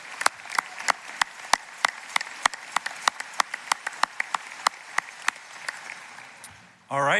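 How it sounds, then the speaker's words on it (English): Sparse, evenly spaced claps ring out at a university undergraduate commencement ceremony, sharp and distinct rather than a dense crowd roar, over a quiet hall background, ending with a sudden louder rush of noise. "How about another round of applause?"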